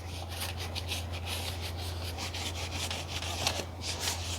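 An engine block gasket surface on a BMW N62 engine is scraped and wiped clean with solvent, giving a continuous close rubbing and scrubbing sound over a steady low hum.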